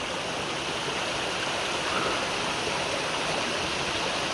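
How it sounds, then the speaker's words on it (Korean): A small, natural mountain stream flows in a steady, broadband rush of water, close and continuous with no breaks, no voices over it. "이런 조그마한 계곡 얼마나 예뻐요"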